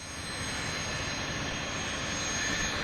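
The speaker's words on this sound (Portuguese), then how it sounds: "Esse é o avião que vai realizar a missão, um cargueiro militar da Força Aérea Brasileira." A Brazilian Air Force military cargo plane, a loud steady engine roar that stays constant and close throughout.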